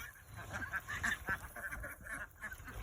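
Ducks on a farm give repeated nasal honking quacks at moderate distance, several overlapping calls in irregular bursts against a low outdoor murmur.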